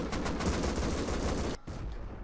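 Rockets and C4 charges go off during a raid in the game Rust, a dense, loud roar of blasts and gunfire that breaks briefly before resuming, with no voices.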